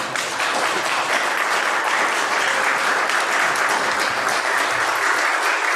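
Audience applause at a Unitarian Universalist service, dense continuous clapping from a full room, loud and steady from start to finish.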